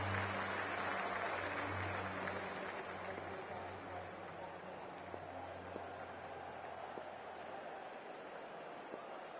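A cricket stadium crowd at a T20 World Cup match between Sri Lanka and England applauds and cheers in a steady, dense roar of clapping that holds across the whole stretch, heard at a distance with no clear voices on top.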